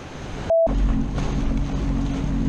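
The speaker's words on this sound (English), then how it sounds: "now we're jet skiing" A jet ski skims across ocean waves off Mexico, its engine droning steadily up close with rushing water and wind buffeting the microphone; a brief tone cuts in near the start.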